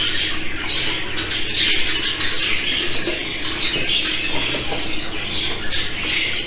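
Jumbo show budgerigar chicks left in breeding nest boxes give a steady, dense chorus of raspy squawks and chirps, close and continuous throughout, with no talking.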